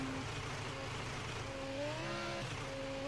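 Car crawling slowly in third gear, a faint, steady low engine drone with a thin whining tone rising and falling over it, no talking.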